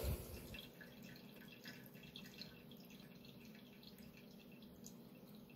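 Water from canned pieces-and-stems mushrooms drains and drips into a sink, a faint, steady trickle after a brief low thump at the start.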